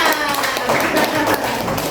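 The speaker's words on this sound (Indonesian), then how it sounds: "Tepuk tangan untuk kita semuanya." A classroom of children claps together in a short burst of applause, steady and close, with a voice talking over it.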